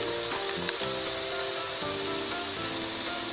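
Chopped garlic hitting a pan of frying vegetables and browned onion, a dense, loud, continuous sizzle heard up close with no voices.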